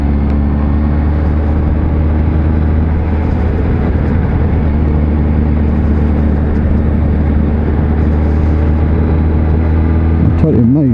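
A 2020 Kawasaki Z H2 hyper-naked motorcycle hums at a steady, fairly loud engine drone while riding, smooth and even with little change in pitch, and a short rise near the end.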